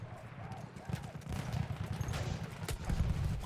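Battlefield 1 gunfire on Xbox One, heard as a fairly faint, busy stretch of rapid shots and distant battle noise that carries on without a break.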